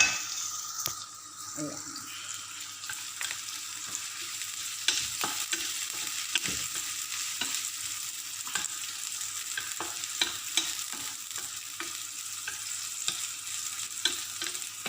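A hotdog fries in a pan, giving a steady sizzle. Sharp clicks and scrapes from turning it punctuate the fry, and a voice speaks briefly.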